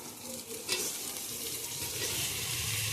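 Tomatoes tipped into a hot pan for mutton biryani fry with a steady crackling sizzle and soft stirring scrapes, a brief sharper burst early on, at a moderate level.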